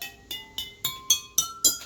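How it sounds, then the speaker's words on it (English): A straight drinking glass struck as one note of a homemade glass musical scale, rung seven times in a steady rhythm with a bright, clear chime each time and rising loudness, close up and alone. "I think the So sounds a little different because it is a straight glass"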